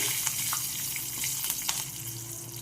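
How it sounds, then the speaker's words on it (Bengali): Chillies and curry leaves frying in hot oil, a soft continuous sizzle with scattered crackles and pops, fairly quiet and close, without voices. "দুটো লঙ্কা ভেজে দেব একটু ভাজা ভাজা হয়ে গেলে দিয়ে দেবো কারি পাতাও দিয়ে দিয়েছি"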